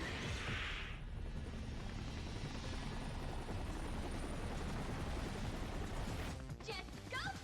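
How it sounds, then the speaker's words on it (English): Helicopters roar in the video game Viewtiful Joe with a loud, continuous rotor drone, preceded by a brief sharp effect and followed by clattering game sounds near the end. "So now we have to fight 2 helicopters"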